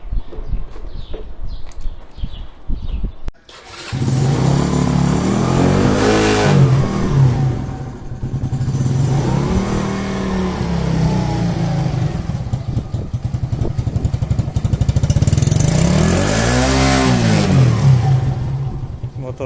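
A motorcycle engine idles roughly, then revs up loudly several times in long swells, close to the microphone.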